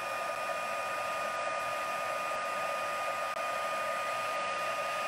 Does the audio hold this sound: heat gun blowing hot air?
yes